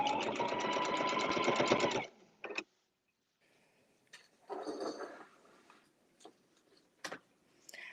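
A longarm quilting machine stitches through a loaded quilt in a loud, steady, rapid mechanical run, then stops abruptly; scattered clicks and soft handling noises follow.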